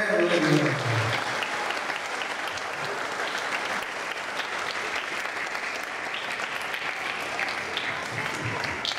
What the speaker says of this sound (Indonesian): Boleh kok kalau tepuk tangan boleh.